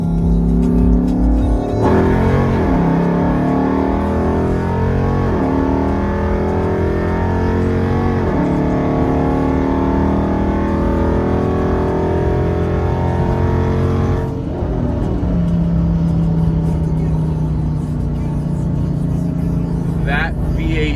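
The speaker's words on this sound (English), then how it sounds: "That V8 just roars through that Hellcat exhaust." A deep, throaty cammed HEMI V8 engine rumbles loudly through a Hellcat exhaust, rising and falling as it revs and shifts, with a sharp drop in pitch partway through.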